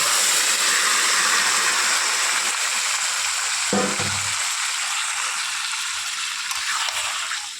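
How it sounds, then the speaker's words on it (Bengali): Dried chili, bay leaf and cumin tempering in hot oil in a kadai for a mutton curry, a loud, bright hiss that gradually fades over a few seconds, with one brief clatter midway. "কড়ার মধ্যে একটা শুকনো লঙ্কা, তেজপাতা আর একটু জিরে ফোড়ন দিয়ে নিয়ে"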